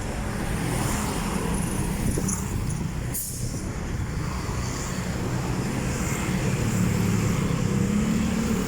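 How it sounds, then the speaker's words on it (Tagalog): Fast traffic and motorcycles on C5 Road in Taguig, a steady roar of passing engines and tyre noise that swells and eases, moderately near, with an aircraft droning overhead. "Talagang mabibilis ang sasakyan dito."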